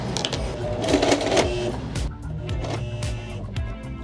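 A sewing machine stitching bedsheet fabric during thread tension tests runs in a steady, rhythmic mechanical whir with close, continuous needle clatter throughout.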